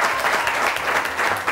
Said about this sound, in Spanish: ¡Un aplauso para esos 15 años!